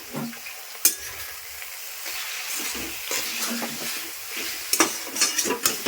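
Leafy greens (saag) with a little turmeric sizzle softly in a pan while a utensil stirs them, with intermittent scraping strokes and a few sharper clinks against the pan.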